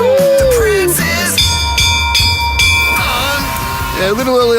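Bell rung live in a studio during a country radio show, with steady ringing tones and struck hits over music and talk, people speaking throughout.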